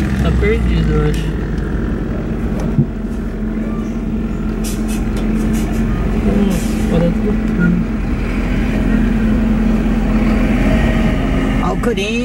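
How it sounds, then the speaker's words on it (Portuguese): A Corinthians team bus rolls through town streets, its engine rumbling low and steady amid traffic noise, with people talking over it throughout. "ônibus do Corinthians entrando na cidade."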